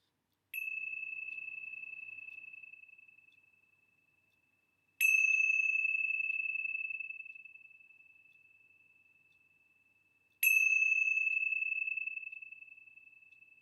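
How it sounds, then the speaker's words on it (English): Three clear, resonant bell strikes spaced several seconds apart, each ringing out and slowly fading into silence. "let's begin our time together with the ringing of the bells"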